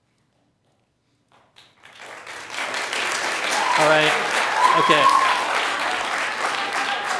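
Audience clapping breaks out at a city council meeting, starting after a second of silence, swelling quickly into loud sustained applause, with a voice speaking briefly over it.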